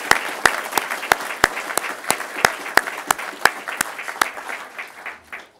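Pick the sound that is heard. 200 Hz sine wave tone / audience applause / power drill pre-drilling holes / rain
audience applause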